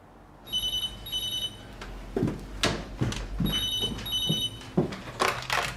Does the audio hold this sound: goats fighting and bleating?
no